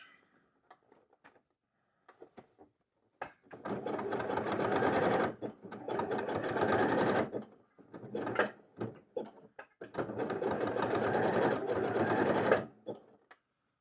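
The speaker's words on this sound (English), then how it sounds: "This machine has a very wide zigzag, which is cool." A sewing machine stitches a wide zigzag while making a cat bed, in several bursts of fast, rattling stitching separated by short pauses, close and loud.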